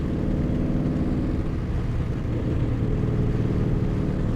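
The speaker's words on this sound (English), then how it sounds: "I got my loud exhaust on like last video." Ford Mustang GT fitted with a loud aftermarket exhaust, a deep continuous engine and exhaust rumble heard from inside the car, steady and fairly loud with no voices.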